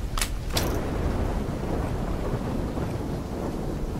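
Thunderstorm in the Call of Duty Black Ops III campaign: a couple of sharp thunder cracks at the start give way to a steady, loud roar of rain and wind rumble, with no speech.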